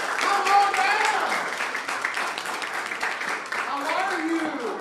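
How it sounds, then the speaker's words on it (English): An audience in Costa Mesa claps for Patricia Ashley, steady moderate applause filling the room, with voices talking over the clapping. "Give her a big round of applause."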